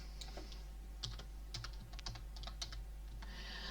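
Rapid keystrokes on a computer keyboard while a spreadsheet formula for a logical IF function is entered, a steady run of light clicks with short pauses, close and fairly quiet over a low background hum.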